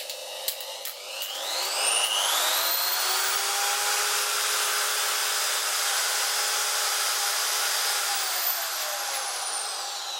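A spindle motor spins up and then whines steadily at low RPM, a quiet, smooth hum with a thin rising tone at the start and soft electrical whine throughout, no voices.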